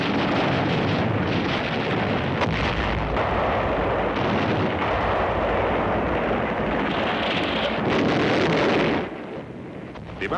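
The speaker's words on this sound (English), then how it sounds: "They begin heavy fire against the beachhead." Heavy Japanese artillery and gunfire pounding an American beachhead, a dense continuous roar of blasts and rumbling impacts at full loudness with no clear gaps, cutting off abruptly near the end.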